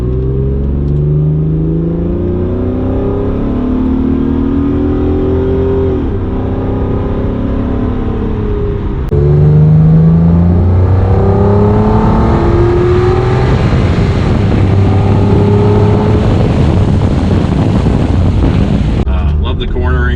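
An Acura NSX sports car accelerating from inside the cabin, its engine note climbing through the gears with loud rising harmonic sweeps, shift dips and heavy wind and road noise.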